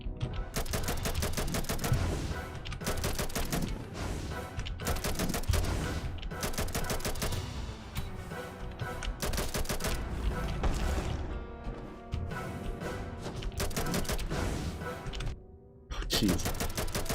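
Rapid rhythmic gunfire from the Hollow Point mod in Hollow Knight crackles in repeated bursts over a game soundtrack, with brief pauses between volleys.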